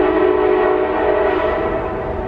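A passing train blows its horn, a loud, sustained tonal blast heard up close over the rumble of the rails, with no speech.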